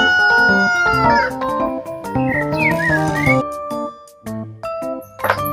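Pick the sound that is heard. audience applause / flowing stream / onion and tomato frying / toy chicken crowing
toy chicken crowing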